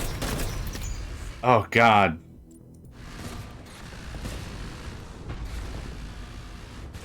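Rumbling gunfire and booms from the sci-fi shooter Outpost Infinity Siege run low and steady throughout, with a player's voice exclaiming briefly near the start.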